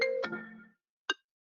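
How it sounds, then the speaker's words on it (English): A mobile phone rings during a board meeting, giving a short melodic electronic tone that fades out, then after a brief silence a single sharper chime. "Somebody's phone is ringing."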